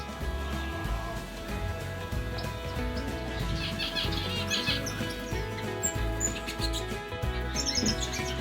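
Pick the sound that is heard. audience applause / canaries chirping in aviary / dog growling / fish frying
canaries chirping in aviary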